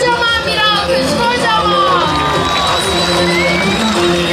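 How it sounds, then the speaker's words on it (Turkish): A large crowd at an outdoor festival commemorating Hayme Ana cheers and applauds loudly and continuously, with whoops, children shouting and a dense hubbub of voices throughout. "Kocaman bir alkış"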